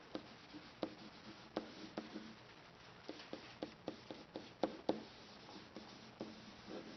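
Marker or chalk tapping and scratching on a board during a geometry lesson on tangents of circles, a series of faint, irregular strokes and taps, close and quiet with no talking.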